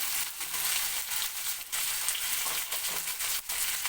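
Turmeric, chili and cumin powders fry with flat beans and potatoes in a pan, producing a close, dense sizzle broken by scraping stirs, continuous and loud without voices.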